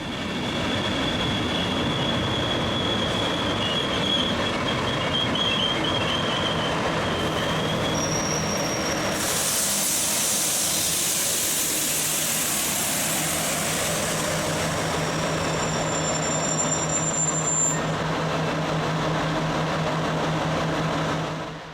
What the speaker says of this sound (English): Class 120 number 123 powers at the rear of this the 15:30 from Stuttgart to Fulda